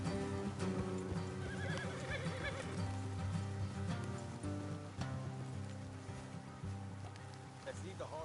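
Horses whinny and neigh several times over steady clip-clopping hooves in Red Dead Redemption 2, with a low rumbling game soundtrack underneath.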